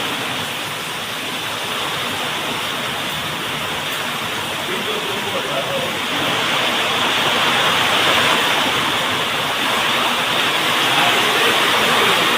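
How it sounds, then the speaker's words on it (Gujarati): A heavy windstorm roars across an open area amid a rain and hail storm, a broad, constant rushing wash that swells louder about halfway through and stays strong to the end. "કેટલો અવાજ આવે, બહુ પવન આવે. ફૂલ વાવાઝોડું હે જો."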